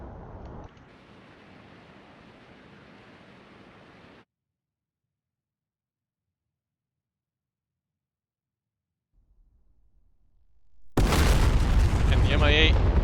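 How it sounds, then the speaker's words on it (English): An SA-2 surface-to-air missile fires in a flight simulator game: a sharp burst, then a fading rushing roar, several seconds of silence, and a swelling, loud booming blast at the end. "The SA-2 has launched a missile."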